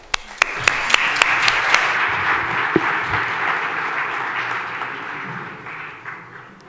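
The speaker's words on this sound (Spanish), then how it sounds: "Un aplauso para él." Applause from the audience at a legal forum in Madrid, opening with a few separate claps before swelling into full, dense clapping that fades toward the end.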